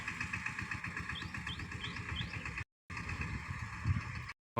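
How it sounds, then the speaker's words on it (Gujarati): A tractor engine chugs with a steady low rhythmic throb, approaching slowly and staying nearby throughout during groundnut sowing, with the sound cutting out briefly twice and faint chirps above. "ટ્રેક્ટર ધીમે ધીમે આવે છે"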